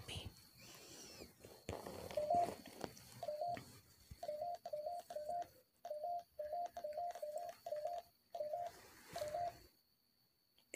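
EMF reader used as a ghost-hunting device, giving a string of short repeated electronic beeps in quick irregular bursts, close and fairly clear, with faint whispery movement and rustling in the background.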